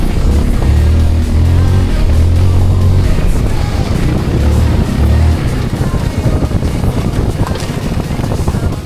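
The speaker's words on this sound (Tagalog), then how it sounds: "Sarap gamitin ang motor na to" Zontes 400G motorcycle riding on a road through a remote barangay in Tarlac, a steady loud engine drone mixed with heavy wind rush across the whole stretch, with no talking.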